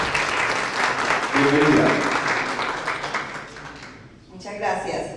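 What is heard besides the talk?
applause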